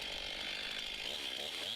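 A chainsaw running during manual tree felling, heard as a faint, steady high-pitched motor whine over a short stretch, with no talk.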